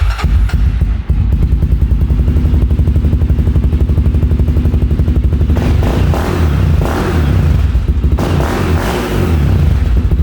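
A Honda 400EX ATV engine with a new exhaust runs loud and continuous with a deep, throaty throbbing rumble, rising in bursts of revving around the middle and end, with some clatter.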